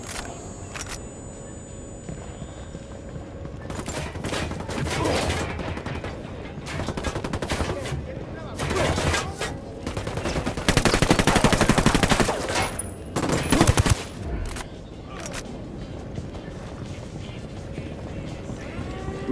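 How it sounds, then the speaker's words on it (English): Gunfire and explosions in the video game Ghost Recon Wildlands: rapid bursts of automatic fire, sharp single shots and heavier blasts in dense clusters, loud and close, with an alarm tone and occasional voices in the background. "Opening fire. Frag out."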